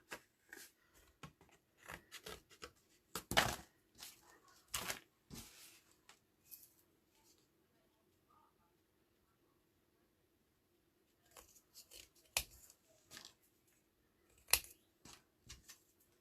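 Scissors snip through chipboard in several short bursts of crisp cuts, close and fairly quiet, with a silent pause in the middle before more cutting resumes.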